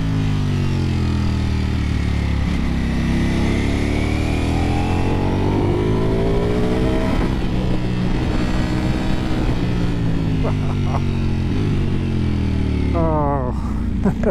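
A 2024 Ducati Panigale V4S motorcycle accelerating, a loud, close engine roar rising in pitch through the gears with brief dips at shifts, while a rider talks throughout.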